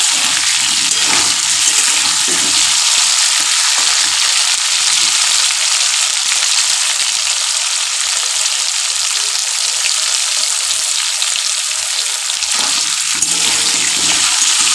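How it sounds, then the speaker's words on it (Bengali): Potatoes frying in hot oil give a loud, continuous hiss and crackle that holds steady and close from start to finish, with no voices over it. "আলুটা লাল লাল করে ভাজার কোনো প্রয়োজন নেই"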